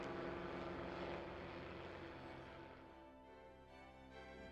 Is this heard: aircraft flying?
yes